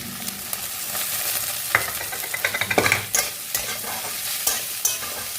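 Chicken, potatoes and onions stirred and fried together in a pan, with a steady sizzle broken by repeated scraping strokes of a spatula, loud and close, building to a busy cluster of clatters midway.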